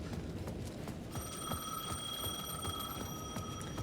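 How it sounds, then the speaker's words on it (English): A payphone at the edge of a plaza rings in the Alan Wake 2 game, a steady electronic ringing tone starting after a moment and continuing over a faint, rustling ambient background. "payphone at the edge of the plaza was ringing again."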